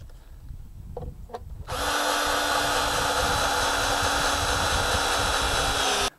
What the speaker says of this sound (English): it's time to screw the frame together. And I'm using 3 inch deck screws